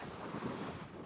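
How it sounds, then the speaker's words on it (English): Strong wind buffets an outdoor microphone on a very windy day beside a parked Mercedes EQS electric car, a steady, loud rumbling roar lasting about a second with no speech. "Sorry about the wind, guys. I don't have a microphone on me right now."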